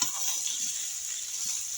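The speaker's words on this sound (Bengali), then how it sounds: "পাস্তা দিয়ে একটু নেড়ে ছেড়ে নেবো" Boiled pasta is stirred in a pan with fried onion, ginger, garlic, green chili and tomato, giving a steady close sizzle with light scraping and stirring movements throughout.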